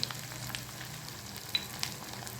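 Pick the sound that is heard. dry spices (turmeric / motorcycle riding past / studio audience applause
dry spices (turmeric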